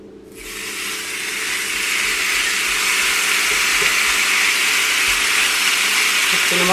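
Beef searing in hot oil and its own fat in a preheated clay pot over medium heat gives a loud, steady hiss that swells quickly at the start and holds evenly throughout.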